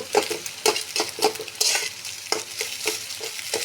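Ridge gourd with egg stirred and fried in a pan: a steady sizzle broken by repeated scraping strokes of a spatula, close and fairly loud, with no one talking.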